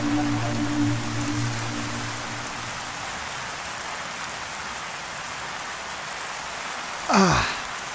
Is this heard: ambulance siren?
no